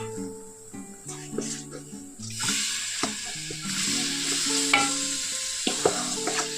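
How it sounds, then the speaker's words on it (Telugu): Chicken drops into sizzling green chili paste with turmeric in a hot pan, and the hiss swells into a steady frying roar under repeated clinks and scrapes of a stirring spoon. "ఇప్పుడైతే చికెన్ వేసుకుందాం"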